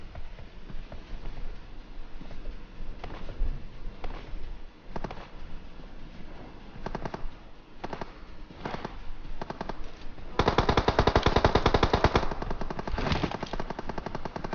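Enemy gunfire in PUBG Mobile near a bridge, with bursts of rapid automatic shots scattered through the stretch, some distant and sparse, then a louder, sustained volley near the end.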